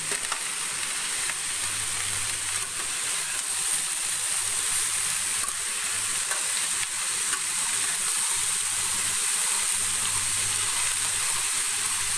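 Loud, continuous sizzle of pointed gourd (potol) frying in a hot pan, a steady hiss with no talking.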